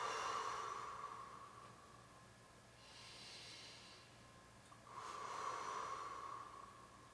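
Slow, deep breaths during a yoga stretch: a long airy inhale and exhale, then another, close to the microphone over a faint steady hum.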